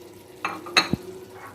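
Crushed ginger, chopped green chillies and tomatoes dropped into frying minced meat (qeema) for a white bean dish: a few short, close sizzling bursts and a stirring clatter over quiet pan noise.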